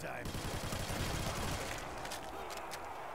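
Rapid gunfire from a World at War zombies custom map pours out in a dense, continuous burst, loud at first and easing off toward the end, with no talking over it.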